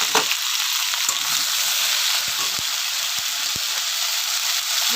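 Eggplant hits hot oil and fries with a loud, continuous hiss, up close and steady throughout, broken by a few soft knocks of a spoon against the pan.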